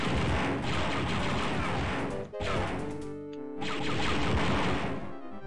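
Enemy blaster fire in the Dark Forces video game: loud, dense volleys of bolts crack continuously, break off abruptly for a moment, then resume as a sustained barrage.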